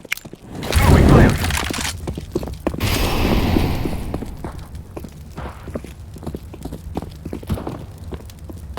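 An incendiary grenade lands and bursts into a roaring hiss of flame on the Mirage map in Counter-Strike: Global Offensive, loud and close, while footsteps and scattered clicks continue around it.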